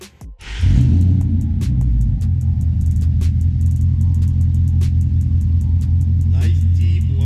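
A 2019 Ford Mustang GT V8 with long tube headers and an upgraded black-tipped exhaust fires up, then holds a loud, deep, steady rumble close by.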